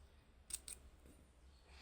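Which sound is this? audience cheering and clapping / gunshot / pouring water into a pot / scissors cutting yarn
scissors cutting yarn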